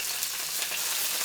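Scallion, ginger and garlic fry in hot oil in a wok, a dense steady hiss of sizzling, close and even with no voices.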